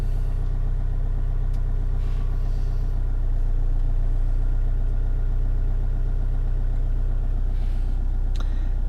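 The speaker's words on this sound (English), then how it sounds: "This is just coming from the idle." A van engine idles with a steady low rumble throughout, close up, with a faint click or two over the constant drone.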